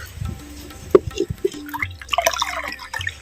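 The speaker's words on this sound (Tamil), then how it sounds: "அரிசி அலைஞ்ச தண்ணி ஒரு லிட்டரு சேர்த்துக்கிறேன்" Rice-washed water poured into a clay pot while making banana flower rasam, heard as close, uneven drips and splashes with a few brighter clinks, settling into a soft trickle.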